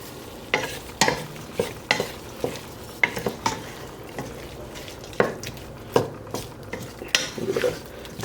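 Thyme frying in a soup pot as a utensil stirs, with repeated scraping clinks against the pot over a soft sizzle, close and fairly quiet, with a stir roughly every half second.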